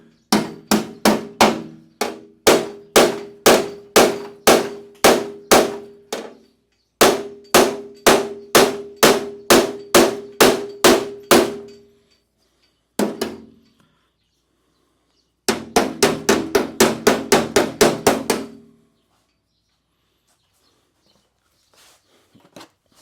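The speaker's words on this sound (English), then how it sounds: "I want to knock that down, knock that kink in. So let me use the same hammer" Metal hammer blows ring out in rapid bursts of ten or so strikes, sharp and clanging, knocking a dent out of car body panel, with short pauses between runs and a lone tap near the end.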